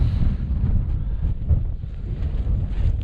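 Chilly wind buffets across a hill summit on Beinn Bheula, a constant low rumbling roar of gusts hitting the microphone throughout.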